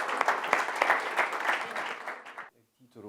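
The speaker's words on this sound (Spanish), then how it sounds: "Un aplauso." Conference audience clapping for a speaker invited to the stage, a lively burst of many hands with sharp accents that stops abruptly near the end, followed by a brief pause and a voice beginning to talk.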